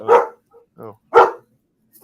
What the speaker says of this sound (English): You didn't even know there was a dog under my desk here.